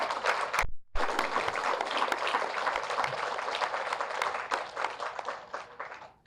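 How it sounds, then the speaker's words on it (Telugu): Sustained audience applause and clapping at a spiritual meditation gathering, loud and dense, with a brief pause near the start before the clapping resumes and continues steadily, then fades at the end. "బ్రహ్మర్షి పితామహ పత్రిజీ గారికి ఒకసారి గట్టి క్లాప్ చేద్దాం."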